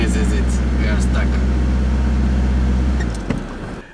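A car with an automatic gearbox strains as it climbs a steep hill, its engine droning loudly and steadily under faint voices before the drone cuts out abruptly near the end.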